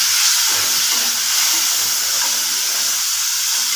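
Chopped tomatoes fry in a pan with browned onions for a chana dal pumpkin curry, a loud, close, continuous sizzling hiss that holds steady throughout with no talk.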